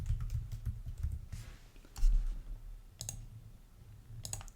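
Java code being typed on a computer keyboard: quick irregular key clicks in short bursts with pauses, close and fairly quiet, no talking.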